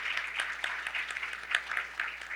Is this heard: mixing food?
no